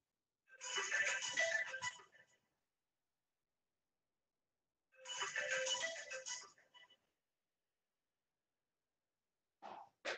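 An iPad ringtone going off during a lecture, sounding in two separate bursts of bright chiming tones with silence between, then a brief third start at the end.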